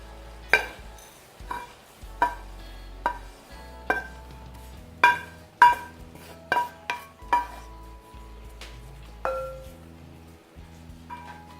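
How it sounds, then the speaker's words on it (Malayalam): Roasted oats for sugarless laddu are scraped and stirred into a bowl with a spoon, a string of close, ringing clinks and taps against the bowl at an uneven pace, with quiet gaps between strikes. "അപ്പോൾ ഇത് ചൂടാറാൻ വേണ്ടിയിട്ട് വേറൊരു ബൗളിലേക്ക് മാറ്റി കൊടുക്കണം."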